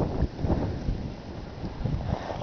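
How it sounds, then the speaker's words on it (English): Steady wind buffets the microphone outdoors beside an icy winter stream, a continuous low rumbling roar with gusts swelling and easing throughout, no voices. "You hear the sound of the wood, the wind?"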